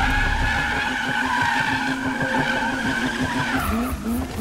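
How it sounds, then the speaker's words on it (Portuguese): A car drifts in a modded Need for Speed Underground, tires skidding in one long, loud, continuous squeal over a steady engine roar that pitches up near the end. "vamos testar ele logo no evento de drift"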